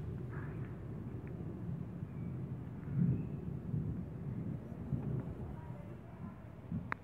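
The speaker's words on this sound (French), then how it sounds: "Bon bah je suis touché par l'orage" Low, distant thunder from a strong storm at Villers-Bocage, France, rumbles on steadily, with a slightly stronger swell partway through and no voices.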